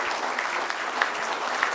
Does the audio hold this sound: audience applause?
yes